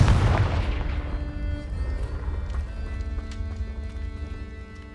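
Confringo blast spell in Hogwarts Legacy: a loud booming explosion at the start that decays into a long rumbling tail with lingering ringing tones, fading over several seconds.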